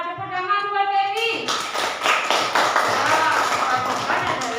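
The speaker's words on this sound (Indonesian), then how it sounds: "tepuk tangan buat Betty" Schoolchildren applauding in a classroom, a burst of many hands clapping that starts abruptly after a teacher's voice and continues as dense, close applause.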